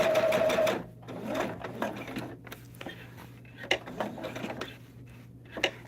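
A sewing machine stitches a throw quilt. A loud whirring burst at the start gives way to short intermittent runs of stitching and mechanical clatter, close by.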